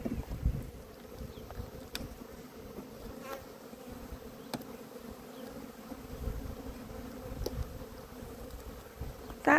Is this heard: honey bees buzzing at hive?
yes